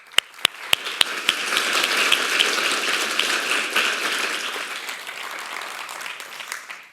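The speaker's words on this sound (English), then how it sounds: "Let's give a round of applause for our panel." An audience at the Saïd Rhodes Forum on Syria, Jordan, Lebanon and Palestine applauds a panel, opening with a few sharp, separate claps before swelling into a dense, steady ovation that slowly thins out over several seconds; no voices are heard.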